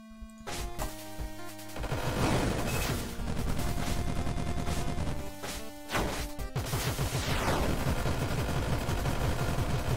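Gunfire in the twin-stick shooter Monolith comes as repeated sharp shots and crashing impacts. They arrive in dense, overlapping bursts over busy game music and effects, loud and close.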